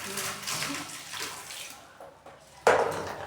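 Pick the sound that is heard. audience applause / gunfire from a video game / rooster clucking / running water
running water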